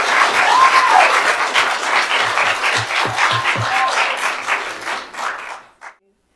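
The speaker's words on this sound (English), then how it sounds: "You can clap if you want to." A meeting audience applauds after a unanimous 4-0 council vote on animal services, a dense, steady round of clapping that fills the room for about five seconds before tapering off and stopping abruptly.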